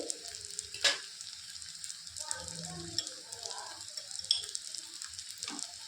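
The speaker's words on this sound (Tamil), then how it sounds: "நல்லா கொஞ்சம் வதக்கிக்குவோம்" Soft, steady sizzling of banana flower stir-fry cooking in a pan with salt and turmeric, with occasional clinks and scrapes of a utensil stirring, fairly quiet throughout.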